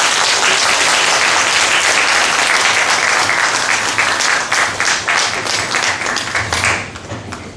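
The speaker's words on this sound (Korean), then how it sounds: "큰 박수 모시겠습니다." An audience at a healing-themed theatre performance and talk breaks into loud, sustained applause, dense clapping that carries for several seconds before thinning out toward the end.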